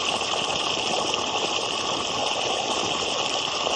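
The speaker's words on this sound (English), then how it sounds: "Here's the water filling up." Water gushing from a pipe into a newly dug pond, a steady rushing hiss with a faint mechanical hum beneath, constant and close throughout.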